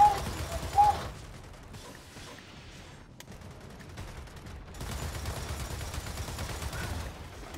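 A mounted turret fires in the Gears of War 4 co-op campaign, with rattling mechanical bursts and clunks set against a low battlefield rumble, louder stretches of fire at the start and again later.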